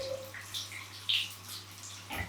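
Hot water runs steadily from a bathroom tap into a sink for rinsing, a close, continuous splashing stream with a few brighter splatters before it cuts off near the end.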